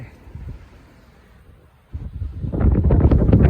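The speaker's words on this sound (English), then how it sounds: "It's so windy" Wind buffets the microphone on the rocky Guadalupe Ridge Trail, low rumbling gusts that build and grow louder and rougher toward the end.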